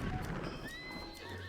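Horse whinnies with a high harmonic neigh over steady hoof clip-clop in the Zelda: Breath of the Wild video game, a continuous short burst with no talking.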